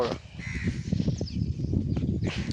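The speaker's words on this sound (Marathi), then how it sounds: "बघा कावळे मामा इथे आलेत" Hoarse crow caws ring out a few times at Kolaba Fort in Alibag, over a busy, noisy outdoor background with low rumble.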